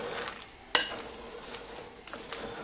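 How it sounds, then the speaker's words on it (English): Vegan powerlifter meal ingredients are mixed in a very large bowl, a soft steady scraping and stirring with two sharp clinks of a utensil against the bowl's rim. "All you do is just mix this up."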